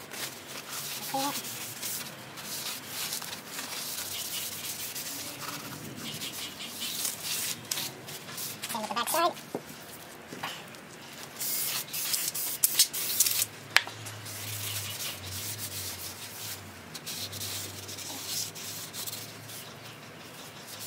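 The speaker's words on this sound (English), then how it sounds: "So you definitely want to clean it with your brake cleaner." Brake cleaner sprays onto the brake rotors of a Ford Taurus in a close, broadband hiss with some rubbing and handling noise, while a person talks through much of it.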